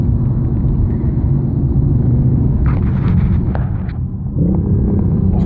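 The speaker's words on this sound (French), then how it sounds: "C'est un bruit de flat 6, effectivement." A BMW i8 engine revs with a deep, steady rumble reminiscent of a Porsche flat-six, loud and close throughout, with a brief dip before the drone swells again near the end.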